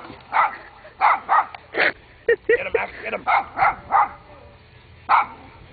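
A Cape Breton puppy barking close by in short, repeated yips and bow-wows, a steady series of sharp barks with brief pauses and a few whimpering sounds between them.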